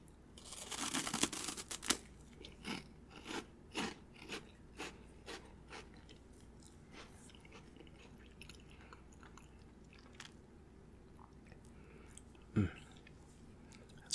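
A hollow, dry, mozzarella-stick-like Japanese snack is bitten and chewed close up, with crisp crunches at the start fading into a regular series of quieter chewing crackles, then a single sharp crunch near the end.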